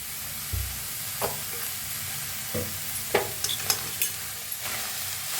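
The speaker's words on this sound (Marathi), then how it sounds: "पहिला पत्ता गोबी आपण भाजून घेऊया आता थोडंसं तेल वतून भाजून घेऊया आपण" Cabbage roasts in a little oil in a hot kadhai on a gas stove, a steady soft sizzle with occasional scrapes and stirring clatters, fairly close and without speech.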